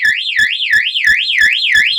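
A Zion burglar alarm system sounds with zone 35 triggered, giving a loud, steady electronic warble that rises and falls about three times per second, with no voices over it.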